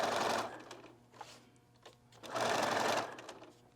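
A sewing machine stitches a Kraft-Tex notebook cover in two fast, rattling bursts, one at the start and a longer one near the end, separated by quieter handling noises and brief clicks, all close up.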